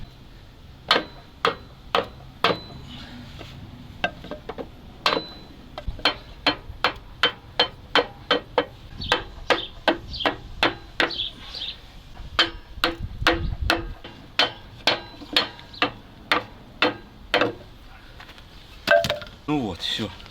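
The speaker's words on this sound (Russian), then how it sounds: "На финальном этапе, когда молоточком подстукиваешь, она прям туда вщелкивается" A small hammer taps cylinder liners down into a ZIL 4975 truck engine block until they click into place. Dozens of sharp, close metallic taps come in a steady, fairly quick rhythm, with short pauses between runs.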